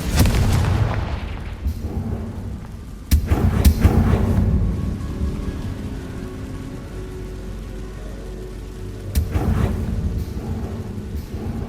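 Confringo spell blasts in Hogwarts Legacy, two heavy booming explosions a few seconds apart, each a sharp crack followed by a rumbling roar that slowly fades, loud and alone.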